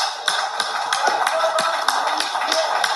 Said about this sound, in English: Now, the president is even clapping